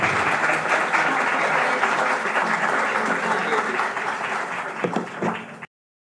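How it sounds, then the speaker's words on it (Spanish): Loud, dense applause from a conference audience welcoming a speaker at an open forum, sustained for about five seconds before cutting off abruptly, with faint voices mixed in. "Démosle un fuerte aplauso"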